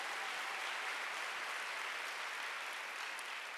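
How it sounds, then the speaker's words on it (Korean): A church congregation at a Wednesday worship service applauds together, a dense, even wash of clapping held at a fairly soft level for several seconds. "지금 박수요"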